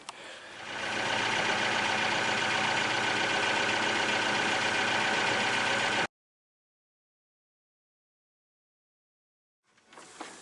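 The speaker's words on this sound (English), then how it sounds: "I'm going to start the engine real fast and take in that bow line" A skipjack sailboat's engine starts and runs at a steady, loud idle for several seconds, then cuts off, followed by silence and a brief faint sound at the end.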